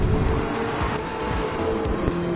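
A race car spins out at the Red Bull Ring in a Supercars racing game, its tires squealing and skidding over a loud, steady engine roar, close and continuous, with no talk.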